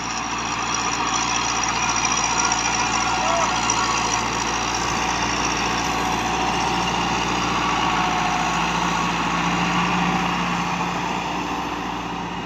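A tractor fitted with a Stanadyne pump drags a land leveler, its diesel engine giving a steady, unbroken low drone at close range with no noticeable change in pace.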